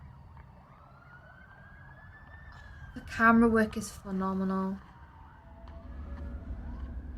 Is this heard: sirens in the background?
yes